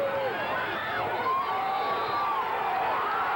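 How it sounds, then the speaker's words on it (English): High school football crowd at a 1989 WPIAL game, Freeport versus Jeannette, cheering and calling out in a steady loud roar, with shouts and whistles rising over it. "They want the crowd to get into the ball game, and they're responding right now."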